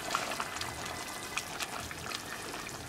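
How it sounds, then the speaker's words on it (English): Laksa broth is ladled over bowls of bean sprouts and barramundi, pouring in a steady soft trickle and splash with a few brief drips, close and fairly quiet, with no one talking. "we're going to ladle the broth over the top"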